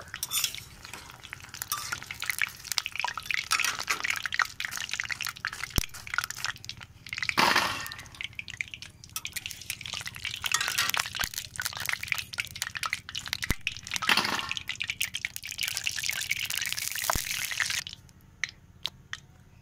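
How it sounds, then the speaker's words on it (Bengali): Fried rosbora fritters being scooped and drained out of hot oil, a continuous crackling sizzle with frequent scraping and clinking of a metal slotted spoon against the pan, fading near the end. "আমি এবার এগুলো তেল থেকে ছেঁকে নেব"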